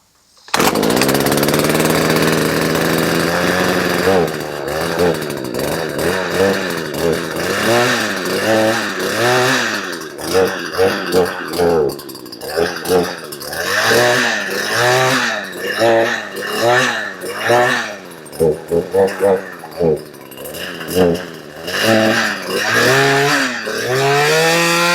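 Husqvarna 240 chainsaw, just fitted with a replacement engine, running right after starting: a loud, close two-stroke engine that revs up and down repeatedly in uneven bursts.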